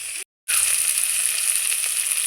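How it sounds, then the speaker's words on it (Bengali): Potatoes and cauliflower fry in a pan with a steady, loud, bright sizzle that cuts out briefly near the start and then resumes evenly, with no voices. "আলু আর ফুলকপি আমার আধা ভাজা হয়ে গেছে"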